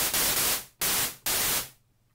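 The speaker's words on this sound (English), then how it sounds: "All we're using is noise, so it's completely unpitched white noise." A synthesizer oscillator set to pure unpitched white noise plays three hissing bursts, each starting abruptly and fading out over about half a second, then silence.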